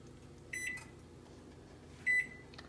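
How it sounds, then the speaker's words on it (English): Kitchen timer being set beside a pot at a rapid boil: two short electronic beeps about a second and a half apart, the second louder, over a faint steady hiss. "So I'm going to set my timer"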